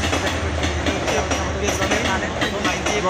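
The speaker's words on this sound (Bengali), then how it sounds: "তো লম্বা ট্রেন রে ভাই, এখনো শেষ হল না।" A long train rolls past on the Silchar to Lumding line near a tunnel, its wheels beating a steady, loud clickety-clack rhythm over the rails, close by and continuous.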